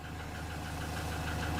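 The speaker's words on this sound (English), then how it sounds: "I'm leaving the engine running so the engine stays warm." A camper van engine idles with a steady, even low rumble and a fast regular knock, running on alone and unchanged throughout.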